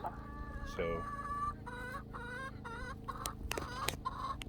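Australorp chickens, roosters and hens, cluck and chatter nearby on a homestead, a busy overlapping flock sound with a brief spoken word.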